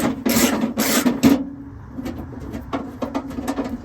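Backing a riv nut out of a King VW mount, a set of harsh rasping metal turns comes first and loud, and then a string of lighter, sparse scraping and clicking strokes follows, close up with no talk.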